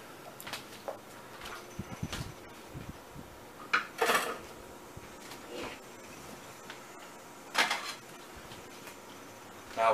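A plate and spatula handled to serve chili dog pizza slices: scattered clinks and scrapes of dishware and a metal utensil, with a few sharper knocks spread over a quiet kitchen background.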